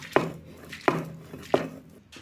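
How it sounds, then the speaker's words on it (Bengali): A knife chops yardlong beans on a cutting board, three separate, evenly spaced thuds roughly two-thirds of a second apart, fairly quiet and close, with no voices. "এখন আমি বরবটিটা কেটে নেব।"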